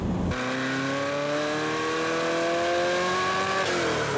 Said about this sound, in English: Another little bit of wheel spin.